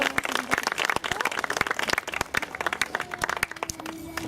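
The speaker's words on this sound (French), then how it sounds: "on peut applaudir vraiment bien fort Karim." Audience clapping at a taekwondo club event in Nice, a dense crowd of hands with sharp individual claps standing out, loud and steady throughout with faint voices underneath.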